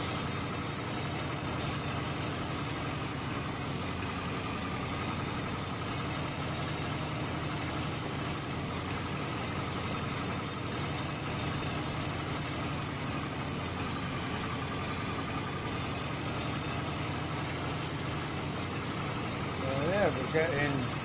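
A farm tractor engine idling in Farming Simulator 25, a steady, even rumble that holds for the full length with no change in pitch and a slight bump near the end.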